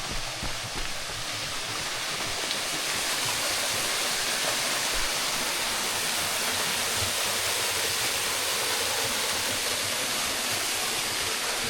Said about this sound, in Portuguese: essa que é chamada Cachoeira dos Escravos. Uma linda queda d'água de forte nome